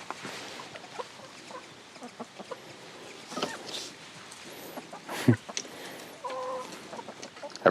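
Chickens at a rural cabin, where overripe cherries are around, cluck in short, scattered bursts at moderate loudness, with soft, irregular calls and no speech over them.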